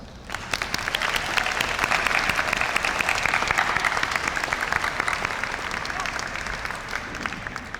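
A commencement crowd applauds families and teachers with dense, sustained clapping that fills the hall, loud and continuous from start to finish.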